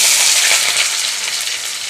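Onions fry in oil in a kadai, giving a loud, dense, hissing sizzle that stays close and constant throughout, with faint crackles and no voices.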